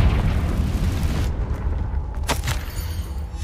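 The Confringo blasting spell explodes in the Hogwarts Legacy video game as one loud, close, rumbling boom that decays over a few seconds, with a short crackling burst partway through.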